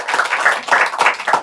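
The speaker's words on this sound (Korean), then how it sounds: "박수로 해주시기 바랍니다." Applause welcoming guests at an outdoor Korean church Sunday service, a steady crowd of hands clapping close by, alone and fairly loud throughout.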